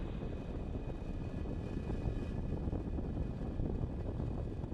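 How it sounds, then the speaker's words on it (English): A Falcon 9 rocket carrying Starlink satellites lifts off with a loud, continuous broadband roar and deep rumble that holds steady throughout, with no voices over it. "Ignition. And liftoff of the Falcon 9 and Starlink."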